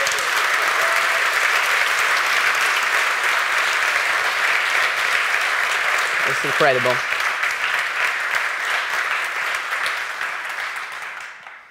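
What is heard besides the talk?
audience applause for Johannes Westmark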